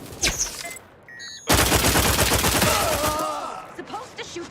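Sustained automatic gunfire in The Outer Worlds 2 video game erupts after a brief quiet, a loud dense rapid stream of shots lasting a few seconds before tapering off amid other game sounds.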